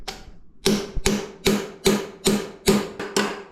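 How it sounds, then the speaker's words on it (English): A hammer taps a bearing into place on a BMW K100 motorcycle build, eight sharp metallic knocks at an even, quick rhythm, close up and otherwise quiet. "Who needs a block of wood when you can just use a hammer?"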